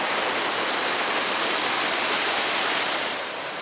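Manido Falls on a river in the Porcupine Mountains roars as a steady, loud broadband rush heard from nearby, easing slightly in level near the end, with no voices.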